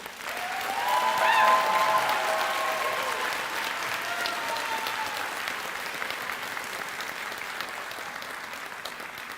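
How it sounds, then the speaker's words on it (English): An audience at a high school graduation ceremony breaks into sustained applause that swells quickly and then holds steady, heard in a large hall with a few faint voices underneath. "Please give them a round of applause."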